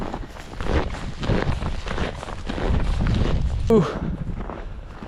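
Strong wind after a blizzard buffets and roars across the microphone in heavy gusts, with crunching steps in snow underneath and a voice speaking briefly.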